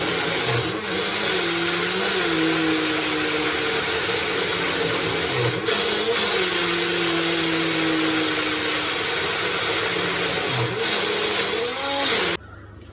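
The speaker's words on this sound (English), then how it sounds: "And now we'll grind this." An electric mixer grinder blends masala paste for Goan-style prawn curry, a loud continuous whirring roar with motor pitch rising and dipping in several pulses before cutting off at the end.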